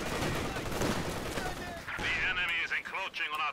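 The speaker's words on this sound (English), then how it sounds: "They make one guy carry this really heavy 19th century machine gun." A heavy 19th-century machine gun fires in the Company of Heroes 2 real-time strategy game, with dense overlapping gunfire and battle noise that gives way to sharp repeated bursts of shots.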